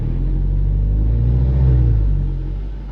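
Volkswagen Jetta GLI with a Unitronic Stage 1+ tune holding a low-RPM launch control on a dyno, a loud, steady deep engine rumble that swells slightly midway then eases, heard alone without talk.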